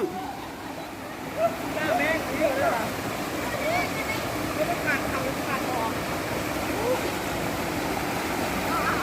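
Stream water flowing and splashing over rocks at an outdoor swimming spot, a steady close rushing wash with bird calls above it and a person talking intermittently over the flow.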